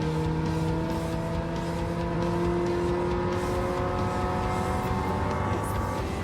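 A car engine in Gran Turismo 7 with a CVT transmission drones at a steady, sustained high pitch under acceleration, loud and continuous with a faint tire whine and no talk.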